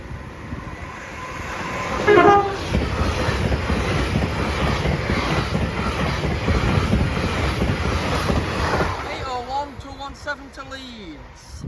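A train passes the level crossing at Bentley station with a loud, close rumble and steady wheel clatter for several seconds. Wind buffets the microphone, and a voice and tonal sounds follow as it moves off.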